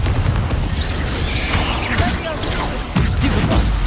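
A Confringo spell fires in the Hogwarts Legacy video game, a burst of crackling blasts and rumbling impacts with swooshing magical effects layered over dense, loud combat noise.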